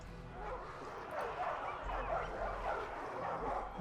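War dogs bark and yip in the Total War Arena video game during a battle with Greek cavalry and pikes, a faint repeated barking and whimpering set among quiet battle noise; a voice talks briefly.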